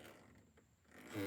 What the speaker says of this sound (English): Let's open up the bag.